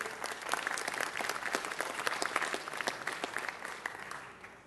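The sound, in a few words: council meeting audience applause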